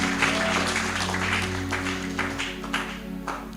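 A church congregation applauds, a dense continuous patter of many hands clapping that holds fairly loud for several seconds and then eases slightly, with an organ or keyboard drone sustained underneath.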